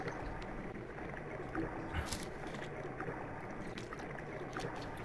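A boat glides along the river in Undertale, a soft, steady watery wash with faint sloshing that holds at a low, even level, and no voices are heard.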